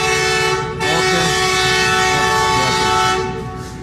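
A Pakistani passenger train on the Jhelum to Lahore run sounds a long, loud, steady horn blast just before departure, holding for a few seconds and then tailing off, with faint background chatter.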